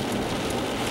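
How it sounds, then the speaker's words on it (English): Monsoon rain pours down during a storm chase near Kingman, Arizona, a dense, steady hiss of drops striking surfaces, close and continuous with no voices. "The rain pretty much basically, rain wiped it out."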